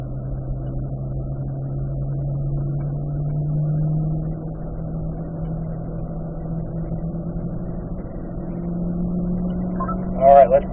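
A car rolls onto a racetrack in third gear at the start of a warm-up lap, its engine a steady, close, moderately loud drone with gentle pitch shifts and a brief louder burst near the end.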